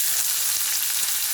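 Chopped onions fry in a pan with a close, steady, bright sizzle that stays even throughout the short moment.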